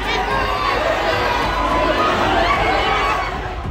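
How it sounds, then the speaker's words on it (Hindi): A loud, unruly crowd presses and shoves outside a mosque in Baghpat, Uttar Pradesh, with a dense continuous roar of many overlapping voices and shouting close by. "उत्तर प्रदेश के बागपत में बेकाबू भीड़।"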